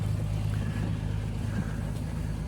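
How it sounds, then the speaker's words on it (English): A 32-foot wooden sailboat under way from Juneau, Alaska, gives a steady low rush of wind and water with a constant rumble and no voices. "we're sailing to Corner Bay, back to Tenakee from Juneau, Alaska, on my 32-foot wooden sailboat"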